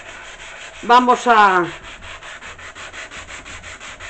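Hand sanding of wood with sandpaper during furniture restoration, a steady rhythmic scraping back and forth, close and even, with a brief spoken word partway through.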